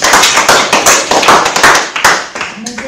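Classroom audience applauding a student's presentation, a short burst of dense, close hand clapping that starts loud and gradually thins out over a few seconds.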